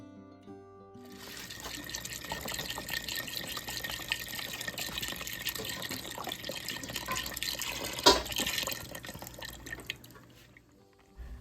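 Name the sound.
chicken broth poured into Instant Pot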